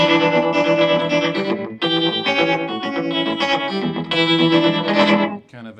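An electric guitar played through a tremolo pedal in a rockabilly style, its chords pulsing with a rapid wavering volume, bright and slightly driven, strummed continuously.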